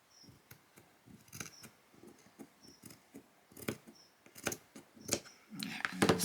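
Scissors snipping through swimsuit fabric, a series of soft, close cuts that start faint and sparse and grow louder and quicker toward the end, with no talking.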